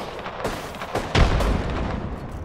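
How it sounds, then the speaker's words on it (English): A frag grenade detonates in Apex Legends with a single loud, close boom that rumbles on over a low, busy game soundscape after a couple of softer thuds. "it takes that freaking frag forever to blow up"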